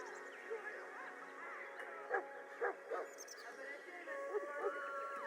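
A Mabari hound in the Dragon Age Origins video game barks and yips a few times in a castle kitchen, sharp and moderately close over a steady, murmuring game ambience.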